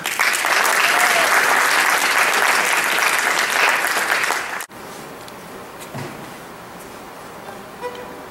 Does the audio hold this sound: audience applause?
yes